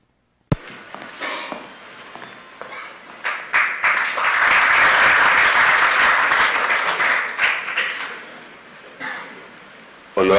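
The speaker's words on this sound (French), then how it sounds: "Veuillez applaudir chaleureusement." Conference audience applauding a Senate president at an international parliamentary meeting in 2018, starting with scattered claps that build into steady sustained applause, then thin out toward the end, with brief speech before and after.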